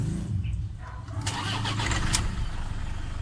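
A Toyota Innova engine cranks and catches, a short starter whir followed by the engine firing and settling into a steady idle, close and fairly loud.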